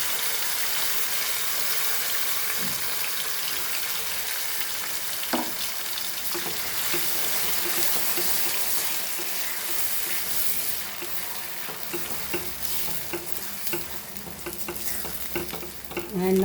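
Goan masala for a plain sorak curry fries and sizzles steadily in a pan, with scraping stirring strokes throughout; the sound is close and continuous, with no talking.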